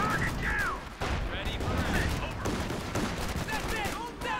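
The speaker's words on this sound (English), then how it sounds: "Infantry gets shots firing in support here." Infantry gunfire in Company of Heroes 2, a World War II strategy game, with scattered rifle and machine-gun shots crackling over busy battle sound while voices talk.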